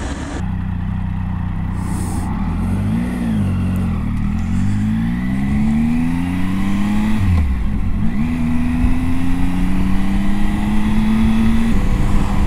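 Triumph Tiger 800 XCA motorcycle on a test ride, its engine droning steadily with pitch rising and falling through several gear changes, under constant wind noise.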